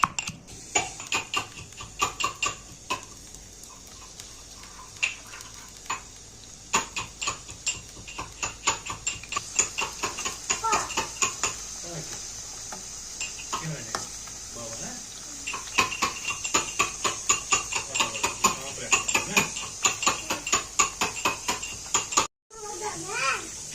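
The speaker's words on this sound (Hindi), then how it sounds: "यहाँ से अदरक लहसुन कूटा जा रहा है।" Ginger and garlic pounded in a Kashmiri home kitchen while mutton yakhni is prepared, giving a steady run of sharp repeated knocks with dishes clinking and children's voices in the background.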